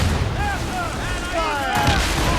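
Ship cannons fire in a naval battle in the Assassin's Creed Rogue video game, with heavy booming blasts over wind and sea noise as shouted voices call out orders.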